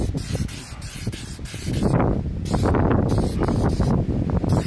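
Bursts of Meguiar's headlight coating aerosol spray hiss in short, close passes over a car headlight, mixed with gusty wind buffeting the microphone outdoors.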